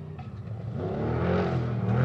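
Justin Lofton's Jimco trick truck races through the desert, its engine note building louder and rising in pitch as it accelerates closer, with no talk over it.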